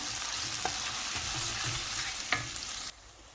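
Onions stir-fried in a pan for a mrigal fish dish give a continuous soft sizzle with a couple of sharp utensil clicks, then stop abruptly near the end.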